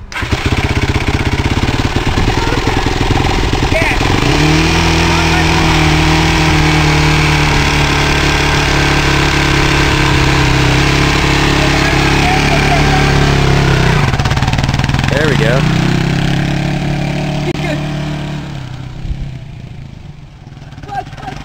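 A Yamaha YFZ 450cc ATV engine runs loud and close, holding a steady throbbing note with shifts in revs midway, then fading off toward the end.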